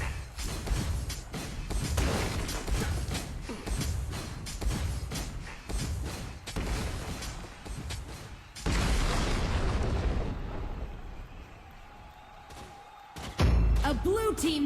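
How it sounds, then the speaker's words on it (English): A blue team tower in Arena of Valor is destroyed during a tournament match, producing a loud boom and crumbling rumble that swell partway through over steady game noise and layered effects. "A blue team tower has been destroyed."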